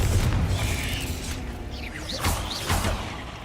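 Confringo explosion spells in the Hogwarts Legacy video game, a loud fiery blast followed by whooshing bursts and crackling pops, close and forceful, with a rumbling boom underneath.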